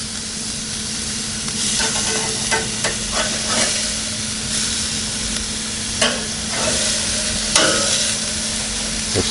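Bison burgers sear on a Weber Genesis II E-310 propane gas grill with a steady broad sizzle and hiss, broken by a few scraping clicks and small pops; no one speaks.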